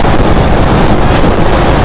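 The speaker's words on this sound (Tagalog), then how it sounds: "Ang hampas ng hangin." Wind buffets a rider on a Dominar 400UG motorcycle, a loud constant roar that rumbles against the microphone throughout, with no break and no speech.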